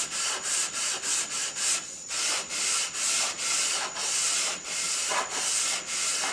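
Close, rhythmic rasp of sandpaper rubbed back and forth in light touch-up sanding of a redheart wood bandsaw box, strokes coming in an even pattern with a brief pause midway.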